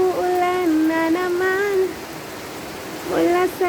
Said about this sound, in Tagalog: ayan umuulan na naman